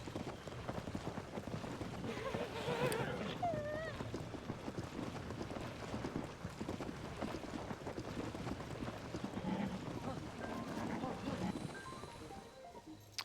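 Horse hooves clip-clop at a steady trot in The Legend of Zelda: Tears of the Kingdom, moderately close and continuous across the stretch, with faint game sounds and occasional musical tones in the background.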